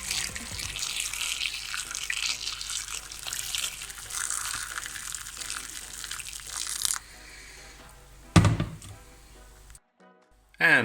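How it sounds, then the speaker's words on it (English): Boiling water poured over beef for stewing, a continuous gushing splash that runs for several seconds, stops, and comes back as short bursts near the end. "Just cover with boiling water."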